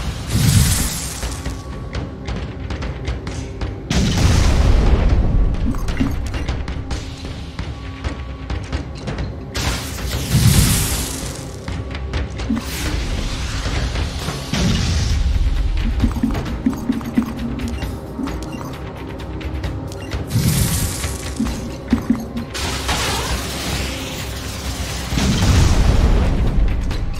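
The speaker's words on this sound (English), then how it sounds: "Those flame bombs are so good. Promethean missiles or whatever they are." Flame bomb missiles explode in the tactical game Phoenix Point: a series of deep booming blasts spaced several seconds apart, each rolling into a rumbling roar over continuous mechanical game noise, with no talking.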